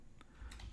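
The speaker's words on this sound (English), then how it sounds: "if you hear typing in the background, it's because my screensaver came on and I have to unlock my computer" Faint computer keyboard typing in the background, a few soft separate keystrokes clicking at close range in an otherwise quiet room.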